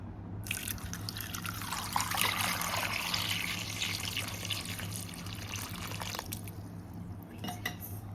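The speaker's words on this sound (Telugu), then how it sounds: "నీళ్ళు పోస్తాం" Water poured into a pot of potato curry, a soft continuous trickling stream with light splashing over a low background hum, fairly faint and steady, no talk.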